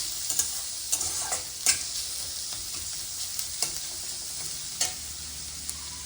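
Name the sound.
onions frying in a pan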